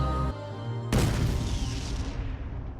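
A bomb goes off in Metal Gear Solid V with one loud, close boom about a second in. It follows a brief tonal passage, and a long rumbling decay with debris-like crackle trails behind it.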